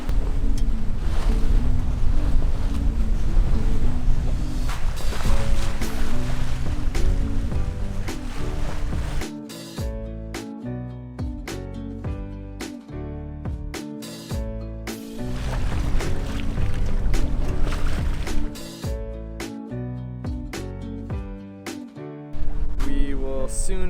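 A sailboat heels along offshore on the crossing from Beaufort toward Wrightsville, North Carolina, at about six knots, with a steady rush of wind and waves washing past the hull. Music comes in partway through.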